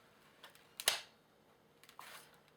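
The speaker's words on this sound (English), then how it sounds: "So you just reach up, cock it" A spring-powered airsoft SKS rifle being cocked, a sharp mechanical clack up close followed by a quieter click and slide a second later, in an otherwise quiet room.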